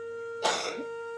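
A single short cough or throat-clear from a man, a brief harsh burst in the middle of the clip over a steady tonal background hum.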